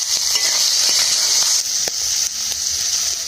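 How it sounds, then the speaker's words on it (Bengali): Oil sizzles steadily in a pan as greens and crabs are fried for a Bengali chorchori, a loud, continuous hiss with small crackles and pops throughout. "তেল দিয়ে দেবো, ভেজে নেবো"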